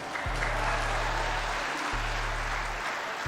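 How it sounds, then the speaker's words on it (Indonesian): Audience applause at a speech by an Indonesian official, a steady broadband wash of clapping filling the room, with a low hum running underneath and no speech over it. "Jangan tepuk tangan terus"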